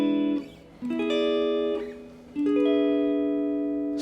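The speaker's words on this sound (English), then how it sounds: "So all 4 inversions sound like this." Guitar strumming four blues chord voicings in sequence, each chord ringing out clearly and decaying before the next, close and solo with no voices.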